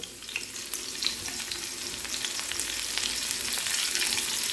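Garlic, ginger and curry leaves sizzle in a hot pan with a steady, close crackle and spitting pops, with no voices.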